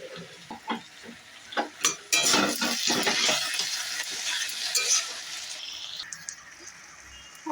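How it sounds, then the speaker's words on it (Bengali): Bay leaf and cumin seeds dry roasting in a pan while cooking a vegetarian banana-flower dish, with a few sharp stirring clicks followed by a steady, fairly loud dry sizzle and crackle. "অপর সাইডে একটা তেজপাতা আর বাকি যে জিরেটা ছিল সেটাকে কিন্তু আমি এখানে ড্রাই রোস্ট করে নিচ্ছি"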